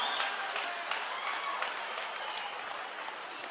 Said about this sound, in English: how about a round of applause for the two ladies?